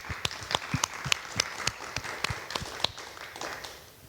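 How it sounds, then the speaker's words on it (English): An audience at an artist panel discussion applauds to welcome the panel, with irregular, moderately close hand claps forming a short round of applause that fades out at the end. "So if we could just do a round of applause to welcome."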